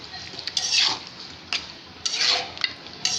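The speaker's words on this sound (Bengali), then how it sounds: "মাংসগুলোকে মশলার সাথে ভালোভাবে মিশিয়ে নেব।" Chicken pieces are stirred with spices in a pot for a spicy chicken curry: a spoon scrapes and clinks against the pot in short repeated strokes, close and fairly quiet, with a soft sizzle underneath.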